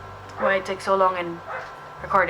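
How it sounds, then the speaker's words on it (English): Small indoor dogs bark and yip repeatedly nearby, with bursts of high, sharp barking overlapping a woman's steady speech. "Whenever I speak, they bark."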